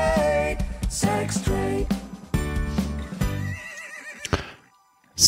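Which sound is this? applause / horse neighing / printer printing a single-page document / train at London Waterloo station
horse neighing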